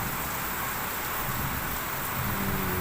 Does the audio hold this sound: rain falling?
yes